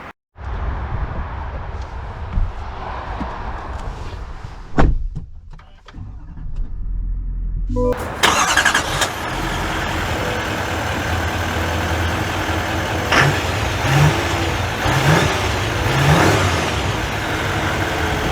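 A 2024 Chevy Silverado 3500 High Country diesel pickup cranks over with a short burst and settles into a steady, fairly loud idle rumble, preceded by quieter cabin sounds and small clicks, with no talking.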